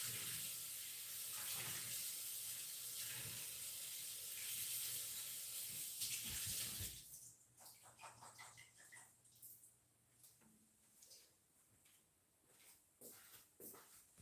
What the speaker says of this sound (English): Quick rinse of the chickpeas.